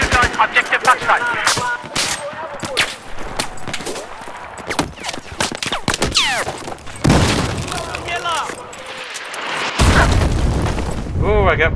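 Explosions and gunfire from aerial bombing during a Battlefield 4 Conquest match on the Guilin Peaks map, with loud repeated booms and rapid shots in a dense battle mix under game voice announcements and player talk.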